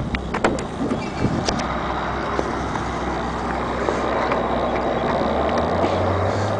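A Pontiac woody wagon with a V6 engine runs steadily at close range, a continuous low motor rumble with some wind noise over the microphone and no talking.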